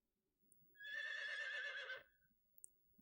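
A horse in the video game Rising World gives a single clear whinny lasting about a second, fairly close and alone over a quiet background with faint thuds.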